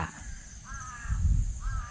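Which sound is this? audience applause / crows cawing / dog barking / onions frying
crows cawing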